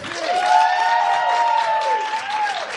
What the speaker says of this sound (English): a big round of applause for the hosts of We Got This with Mark and Hal